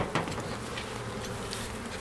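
Steady insect buzzing from many honey bees at an open hive during a spring inspection, continuous and fairly close, with a few soft rustles and taps mixed in.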